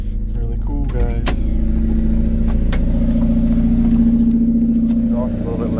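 A supercharged Subaru Sambar with all-wheel drive and automatic transmission idles loudly nearby, a steady droning engine hum with some rattling and brief clicks.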